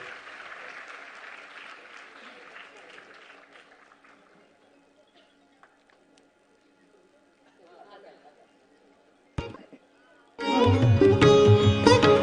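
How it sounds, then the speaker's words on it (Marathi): Audience applause at a Women's Day inauguration of a women's honour portal and cyber wellness cell: a dense burst of clapping that gradually thins out and fades into near quiet, followed by loud music suddenly starting at the end. "टाळ्यांचा वर्षाव होत राहू देत"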